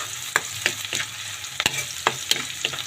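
Squid frying in a pan while being stirred, a steady sizzle punctuated by repeated clinks and scrapes of the utensil against the pan, close up and with no talking.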